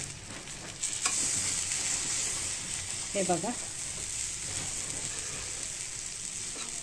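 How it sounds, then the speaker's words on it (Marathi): Tilapia fish frying in a pan over low heat, a steady broadband sizzle running throughout with a brief scrape as it is flipped, under short spoken remarks. "अशा पद्धतीने आपण आता फिश फ्राय करतोय"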